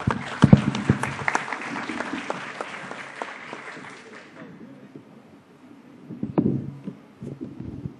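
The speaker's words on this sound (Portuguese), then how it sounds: "Uma salva de palmas, por favor." Applause from an audience at a human rights in internet panel session, a dense burst of clapping that thins and fades over several seconds before a brief renewed swell near the end.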